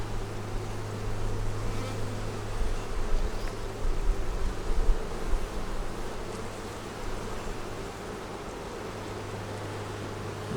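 Honey bees buzz at an open hive, a dense, continuous drone close by that swells and eases slightly over ten seconds, with no voices.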